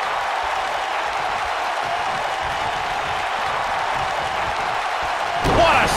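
A wrestling arena crowd roars in a steady, loud wash of cheering, with a sharp slam near the end.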